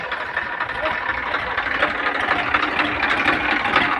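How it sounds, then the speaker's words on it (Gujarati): A tractor engine runs on the way out to a farm field, a steady, close mechanical drone that continues without a break. "આપણે ટ્રેક્ટર લઈને 1 વાગી જાય છે બહાર ખેતર જવા નીકળી ગયા છીએ"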